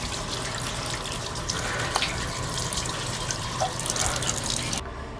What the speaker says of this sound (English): I'm just going to run a little water so I can rinse off my hands